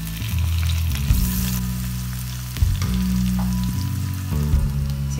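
Chopped tomato and onion sauté in a pan, giving a loud, continuous sizzle near the mic, with a few stirring bumps and clanks along the way.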